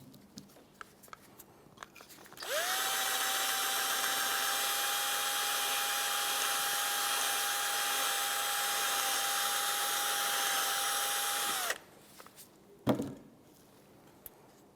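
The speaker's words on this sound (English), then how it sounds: "We're going to use a little bit of parts cleaner inside of each of the ports, and then we'll also continue with a bore brush." Parts cleaner sprayed into the ports of a brake caliper from a 2004-2015 Nissan Titan, a loud steady hissing blast lasting about nine seconds, followed by brief clatter and scraping.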